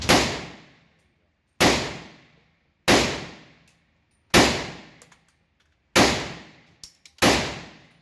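An STG-44 assault rifle, a German Sturmgewehr, fires in the VR shooter H3VR at a Battlefield Vegas range. Six loud single shots come at uneven intervals, each a sharp crack with a long ringing decay, and a few faint clicks sit between them.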